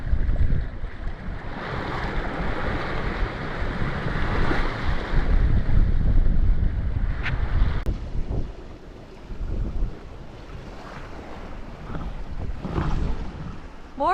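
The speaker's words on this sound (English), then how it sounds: "Waves are always difficult to show, but I guess they are now 2 meters" Ocean waves of about two meters rush and wash around a sailboat at sea on a passage from Vanuatu to Cairns. Steady roaring surf and buffeting wind noise continue throughout, with swells rising and easing in loudness.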